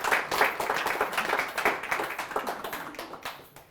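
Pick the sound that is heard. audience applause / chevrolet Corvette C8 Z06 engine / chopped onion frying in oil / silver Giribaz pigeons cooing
audience applause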